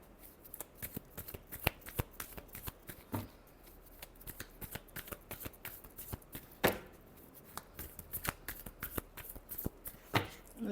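Tarot cards are shuffled by hand in a quiet room, giving a string of soft, crisp riffles and slaps that come irregularly and close by.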